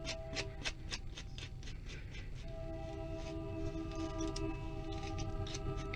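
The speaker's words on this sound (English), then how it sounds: "You can hear the train." A train passes outside during a hair bun tutorial, a steady low rumble with sustained horn-like tones rising in the second half, heard at a distance behind faint handling noises.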